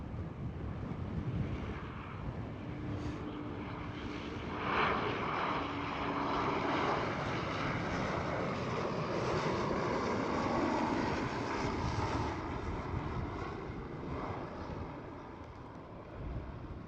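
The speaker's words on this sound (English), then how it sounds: "It looks fully grey, so it could be the KLM Cityhopper with a SkyTeam livery." A KLM Cityhopper airliner in SkyTeam livery passes over Schiphol airport in Amsterdam, its engine roar swelling and fading across the whole stretch against steady wind noise, with no voices.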